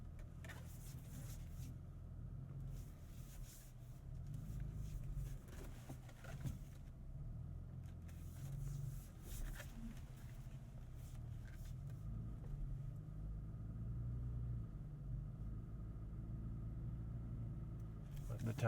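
A 2022 Toyota Tacoma TRD Pro crawls off-road, its engine a low steady rumble under the cabin with faint tire crunch and occasional bumps, while people talk over it throughout.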